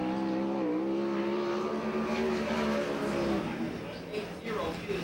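USAC/CRA sprint cars race at Perris in the Firecracker 40, engines revving and whining through rising and falling pitch, at moderate distance beneath an announcer's voice.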